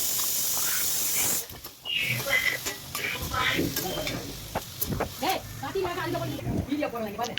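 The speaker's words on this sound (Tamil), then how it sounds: "போட்டு வதக்கணும். நல்லா வதக்கிட்டு" Sautéing ingredients in a pan for sambar: a strong steady hiss of frying opens, then breaks into stirring scrapes and softer sizzling while someone talks over it.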